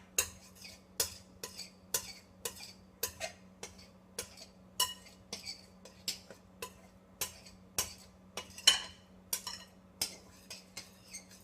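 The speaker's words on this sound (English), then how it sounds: "I'm just going to stir this around and get that salt incorporated into the flour" A spoon stirs salt into flour in a Pyrex bowl, giving a steady series of light clinks and taps at about one per second against a faint low hum.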